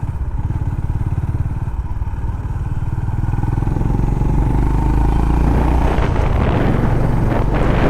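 A Honda CB350RS motorcycle ridden at night on the road, its engine and exhaust note a loud, steady low thumping drone mixed with wind buffeting the microphone, rising slightly toward the end.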